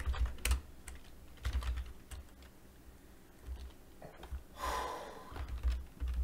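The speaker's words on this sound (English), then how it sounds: "Typing like an idiot." Rapid, uneven typing on a computer keyboard, close and clear, with clattering bursts of keystrokes and brief pauses, and no speech.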